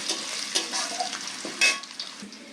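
Whole cardamom, cloves, cinnamon, dried red chili and cumin seeds frying in hot oil in a kadai, a close crackling sizzle with a few quick stirring scrapes, brief and unvoiced.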